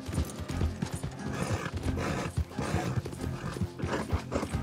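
A horse's hooves clip-clop at a steady, rhythmic gallop in Red Dead Redemption 2, with a dense low rumble beneath and no talking.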